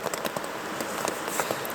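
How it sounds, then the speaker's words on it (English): Rain patters steadily on the fabric of a hot tent in Cairngorm National Park, a dense close hiss of scattered drops with no voices. "The rain just didn't stop the whole way."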